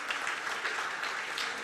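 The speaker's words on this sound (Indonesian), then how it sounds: "Beri tepuk tangan dulu untuk Tuhan kita." A church congregation at a Sunday service in Batam claps together in a steady, dense round of applause that fills the room.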